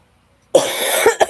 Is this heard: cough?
yes